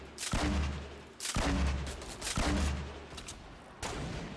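Sniper rifle shots in the Fortnite video game ring out in a loud repeating sequence, four sharp cracks roughly a second apart, each followed by a booming decaying tail, with no talking.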